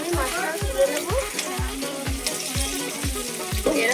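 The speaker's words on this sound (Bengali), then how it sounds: "মাছ ভাজা" Rohu fish frying in hot oil in a home kitchen, with a close, continuous sizzle punctuated by a regular, rhythmic low knocking.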